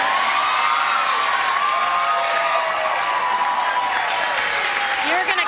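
A late-night talk show studio audience applauds and cheers loudly and without a break, with whoops and whistles rising above a dense wash of clapping.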